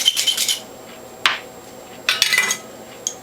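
Beet vegetables being scraped against a hand grater held in the palm, producing a few sharp metallic scraping bursts separated by quiet gaps, close and without speech.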